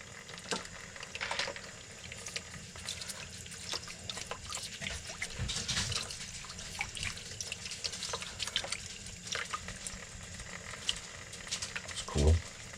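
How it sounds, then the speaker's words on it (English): Tap water runs into a sink while rocks are cleaned in it, a faint steady patter and splash with scattered clinks and drips, ending in a brief louder knock. "I can stop the water because I filled up the sink"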